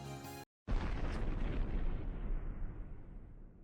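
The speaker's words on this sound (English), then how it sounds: "is engulfed by the enormous sound of an explosion and the waves of heat that come with it" A huge explosion sound effect in the Steins;Gate visual novel game booms in suddenly after a brief silence, then a long, loud, rumbling roar slowly fades.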